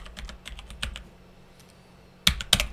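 Rapid, light keystrokes on a computer keyboard, a quick burst of taps followed by a pause and then two louder, sharper key presses close by.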